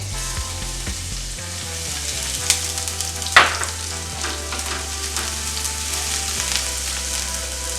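Dumplings fry in a pan with a steady, fairly loud sizzle that runs throughout, broken by a few stirring clatters and one sharper knock near the middle. No one speaks.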